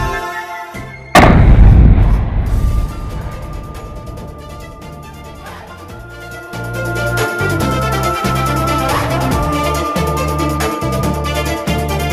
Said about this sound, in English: A battered Portuguese carrack unleashes a massive broadside, sending up thick, gray-black smoke.